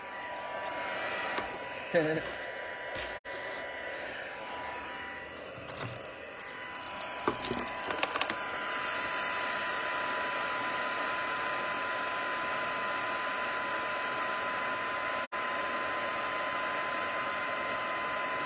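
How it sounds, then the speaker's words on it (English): An embossing heat gun blows hot air, starting with some handling clatter and then settling into a steady, loud whooshing hum that runs unbroken for over ten seconds. "I'm going to heat up my heat tool for a minute."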